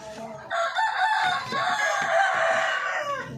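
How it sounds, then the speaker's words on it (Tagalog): A four-month-old rooster crows loudly and steadily at close range among chickens clucking at a backyard duck and chicken pen, with the crow running almost continuously through the moment. "Laki nitong barako na to."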